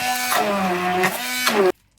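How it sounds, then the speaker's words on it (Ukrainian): A steady mechanical whir of a blender mixing sour cream and cocoa, running for under two seconds, with the motor pitch shifting a couple of times before it cuts off abruptly. "І збиваю все блендером."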